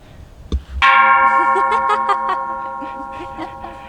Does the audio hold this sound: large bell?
yes